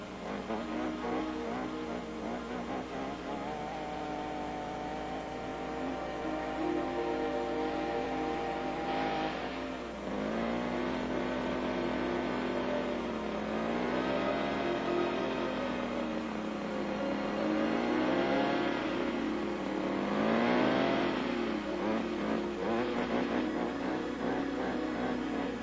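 A lawn edger's small engine runs loud and steady in a residential yard, droning continuously with rising and falling revs and no voices over it.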